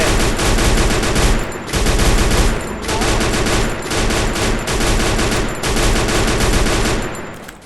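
Dense bursts of rapid automatic gunfire in a video game fire in several loud, sustained volleys separated by brief pauses.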